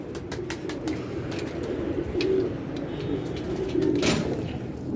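Pigeons coo in repeated low rolling calls, nearby and steady over a dense background murmur, with a few faint clicks and knocks scattered through.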